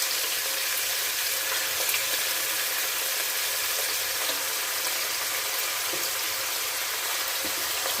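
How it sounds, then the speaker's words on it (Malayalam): Chicken pieces frying in hot oil for Chinese-style chilli chicken, a loud, steady, close hiss and crackle that holds unbroken throughout with no talking. "നമുക്ക് ചിക്കൻ ഇട്ട് കൊടുക്കാം."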